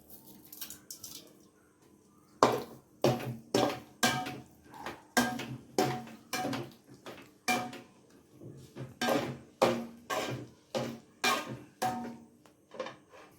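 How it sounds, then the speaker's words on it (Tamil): Potato masala being stirred in a pan produces a steady run of rhythmic scraping knocks, about two per second, close and fairly crisp, after a few quieter taps at the start. "அப்புறம் நல்லா கிண்டணும் அந்த கட்டி இல்லாத மாதிரி கிண்டிக்கணும்"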